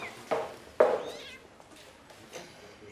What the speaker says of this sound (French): t'en as un joli petit chaton